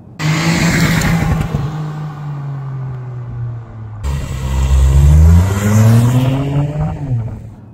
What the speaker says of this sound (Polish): ten samochód, szczególnie w trybie sport, potrafi strzelać z wydechu, potrafi naprawdę fajnie brzmieć